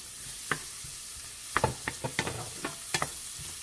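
Onion frying with bacon in a pan of melted butter, a low steady sizzle with scattered clicks and taps as a utensil stirs and knocks the pan, close by and no talking.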